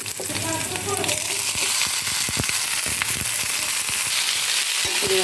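Ingredients for vadukapuli lemon pickle frying in oil in a pan, a dense, continuous crackle and sizzle with sharp pops scattered throughout, close and fairly loud.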